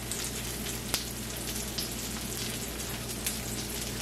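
Chicken patties sizzle steadily in a frying pan, a constant close crackle with a few small pops and a low background hum, and no talking.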